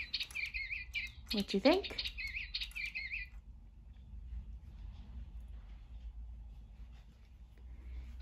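Electronic Digibirds toy birds chirping in a quick run of bright, repeated tweets for about three seconds, fairly close, with a brief spoken question in the middle and quiet room background afterward.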